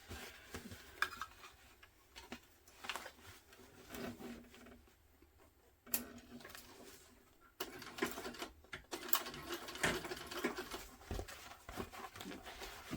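A sewing machine topstitches through vinyl on a tote bag, giving slow, uneven ticking stitches with pauses and a faster run near the end, quiet and close with no talk.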